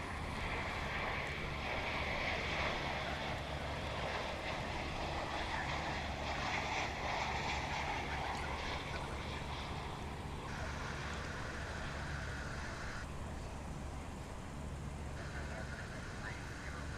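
A Boeing 737-800 arriving from Albuquerque on a runway at DFW International Airport gives a steady, broad jet roar that holds for the whole stretch, blended with gusty wind noise on the microphone and no clear voices.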